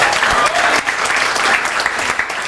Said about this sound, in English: A round of applause to Ben.